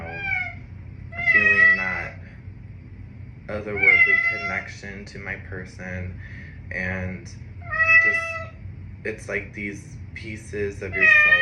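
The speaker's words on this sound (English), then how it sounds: "Excuse my baby kitten." A baby kitten meows loudly and repeatedly, several high, drawn-out cries rising over someone talking steadily nearby.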